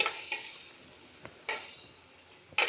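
A utensil stirs chicken soup (sopas) in a metal pot after fish sauce goes in, giving a few separate scraping clinks spread across a quiet moment, with no talk.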